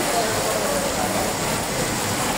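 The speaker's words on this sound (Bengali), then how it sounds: "অনেক বৃষ্টি হচ্ছে" Heavy evening rain pours down in a steady, dense hiss, loud and close, continuing without a break and with no voices over it.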